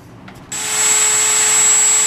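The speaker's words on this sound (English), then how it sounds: "I've got an appropriate pilot drill in my Dremel flexible cable so I can get in there pretty easily and drill the holes." A Dremel rotary tool on a flexible shaft cable spins up to drill pilot holes, a steady high-pitched whine starting abruptly after a brief quiet lead-in and holding loud and close to the end.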